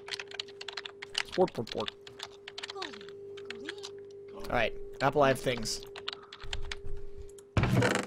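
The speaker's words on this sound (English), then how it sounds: "what are you typing?" Rapid clicking keystrokes on a computer keyboard during a Minecraft Pixelmon gaming session, steady and close throughout, with people talking over the typing.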